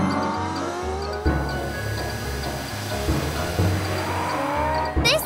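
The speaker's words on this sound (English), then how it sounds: "Mila, morph into a race car!" Cartoon race car driving: a continuous revving engine whine with rising and falling pitch, a few tire-squeal accents and bumps, and a rising whoosh at the end, played loud and up close.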